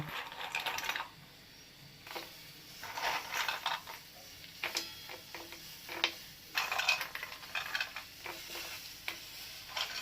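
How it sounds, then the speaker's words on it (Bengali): Soya chunks tipped into a pot of salted water on a gas stove, a run of close clattering pours and scrapes in uneven bursts with short pauses between. "এর মধ্যে আমি এই সয়াবিনগুলো দিয়ে দেব।"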